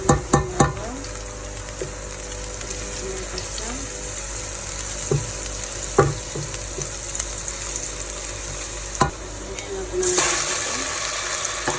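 Pechay and aromatics sautéing in a pan for egg noodle soup, a steady close sizzle with a few sharp stirring clatters and a brief louder hiss near the end.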